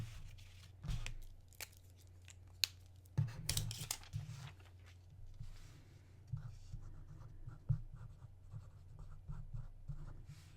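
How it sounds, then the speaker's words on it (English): A pen writes by hand on paper in close, quiet scratchy strokes, with irregular bursts and pauses and a few louder scrapes and taps, and no talking. "I'll write that down."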